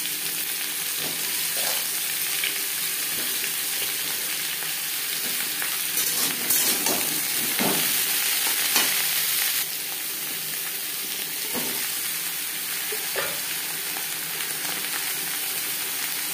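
Pointed gourd (potol) fries in a pan for a vegetarian potato and potol curry, giving a loud, steady sizzle throughout with intermittent scrapes and clatters as it is stirred.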